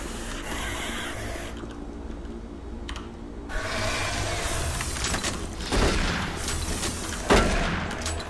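Shotgun blasts in DOOM 3 Enhanced Edition, several sharp loud bangs over a background of clattering game mechanics and rumble, with the heaviest shots near the end.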